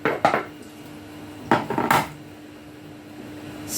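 Ingredients get stirred into a pot of Texas chilli with a few sharp metallic clanks of a utensil against the pot, separated by quiet gaps over a low background hum.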